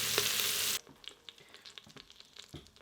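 Pork carnitas browning in an Instant Pot, with a loud steady sizzle for under a second, then quieter scattered pops and crackles as pieces are flipped.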